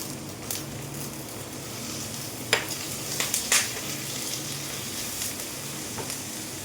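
Chopped onion and capsicum frying in a pan for egg chilli, a steady low sizzle throughout with a few faint stirring scrapes and taps, quiet and close.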